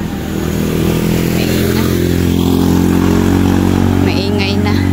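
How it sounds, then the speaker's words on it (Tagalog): Busy street traffic rumbles steadily and loudly as motorcycles and cars pass close by, with engine drone and a few higher whines and horn-like tones near the end. "Ang dami ng sasakyan."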